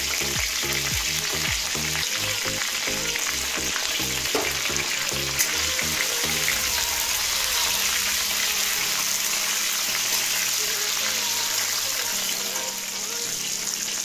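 Capsicum hits hot oil with ginger and garlic, sizzling and frying steadily and loudly, with rhythmic stirring or scraping in the first half.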